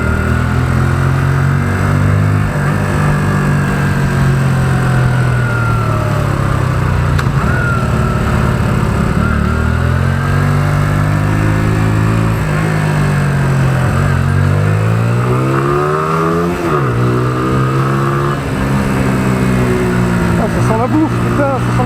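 A motorcycle rides through traffic, its engine droning steadily and rising and falling in pitch with gear changes and throttle, loud and continuous under wind noise, with someone talking over it at times.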